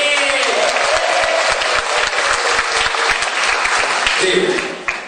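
An audience at a motivational seminar claps loudly and steadily in a dense, unbroken burst of applause that stays close and full for several seconds before tapering slightly at the end.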